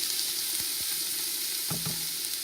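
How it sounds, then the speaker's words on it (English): Vegetables sizzle in a hot pot for jambalaya, a steady hissing fry throughout with a few stirring scrapes and clatters near the middle and end, close and alone with no talking. "You know that the pot is hot because of the fact you hear the steam, you hear that sizzle, that's what you want."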